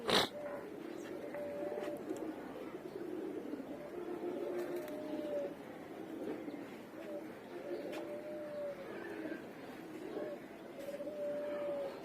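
Soft, repeated low cooing from a flock of about thirty male pigeons, a steady murmur of overlapping calls with a few clearer coos standing out close by.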